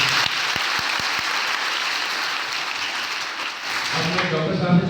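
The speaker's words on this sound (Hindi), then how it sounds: "तो इसके लिए जोरदार तालियां आपको।" An audience breaks into sustained applause at an event, steady and fairly loud throughout, with a few sharp individual claps standing out near the start and a voice or two rising near the end.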